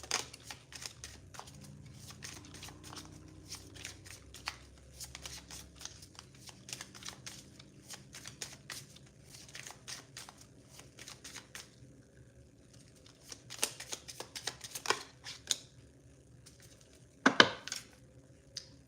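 Cards are shuffled nearby in repeated quiet riffles and soft slaps, with a faint low hum underneath and a sharper snap near the end.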